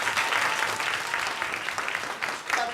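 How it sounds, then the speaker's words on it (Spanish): Steady, dense audience applause for a musician named María at a cultural event, loud and sustained throughout with a faint voice briefly rising near the end. "Un aplauso para María,"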